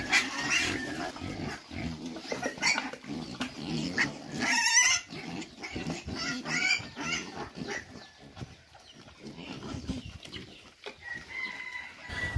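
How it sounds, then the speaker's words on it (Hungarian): Vietnamese pot-bellied pigs grunt and squeal among other farm animal noises outdoors, irregular bursts at moderate distance throughout, with no talking. "ilyen vietnámi, ilyen csüngőhasú malacoknak a hangját hallom"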